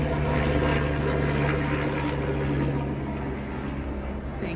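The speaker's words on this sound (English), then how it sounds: "There's a helicopter going over." A helicopter flies overhead, its loud continuous engine and rotor drone filling the air and easing slightly toward the end, with no other sounds over it.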